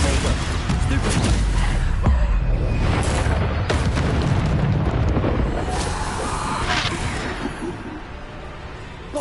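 Explosive spell blasts from a Harry Potter video game, a dense run of booming bursts and crackling impacts layered with game effects, loud and continuous with a voice speaking over them.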